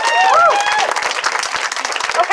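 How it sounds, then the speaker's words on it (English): Crowd applause breaks out at an outdoor community rally, a dense wash of clapping filling the air with cheering voices rising over it near the start. "Can we get a round of applause for everyone who's showing up here today?"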